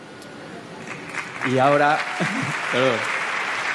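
Audience applause at the Goya awards ceremony, a steady wash of clapping from a large crowd that swells in the middle, with a presenter speaking over it.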